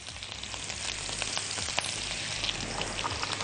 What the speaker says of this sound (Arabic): ومع السمنة هنحط البصل